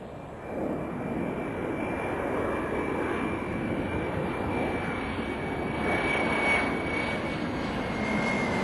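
A steady, broad roar of the Boeing Dash 80 prototype jet airplane's engines holds throughout, loud and continuous with a faint high whine above it.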